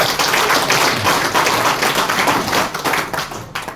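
An audience claps together in a dense, steady round of applause that stays loud throughout and then thins slightly at the very end.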